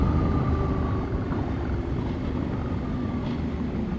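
2024 Husqvarna Norden 901 Expedition motorcycle riding, a steady low engine drone mixed with wind rush, moderately loud and continuous with no talk.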